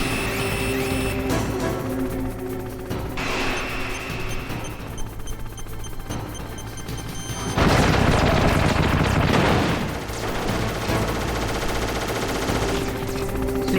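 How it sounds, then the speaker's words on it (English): A boss in the Metal Gear Solid video game fires a rocket: a loud, dense roaring blast of about two seconds that bursts out over steady gunfire-like game noise and background sound. "Yep, he's shooting off the rocket."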